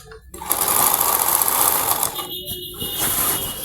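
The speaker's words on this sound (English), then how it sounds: "So I'm going to sew the side seam of the dress." A sewing machine sews a dress side seam steadily at close range, its fast mechanical whir stitching continuously for a few seconds with a brief slowdown midway.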